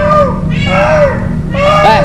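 A cat meowing in several drawn-out, wavering cries with short gaps, loud and close over a steady background hum.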